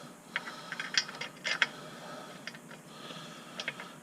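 Ratchet clicking as bolts are threaded into a lightweight flywheel on a Honda Civic Si, short bursts of close metallic ticking with pauses between strokes.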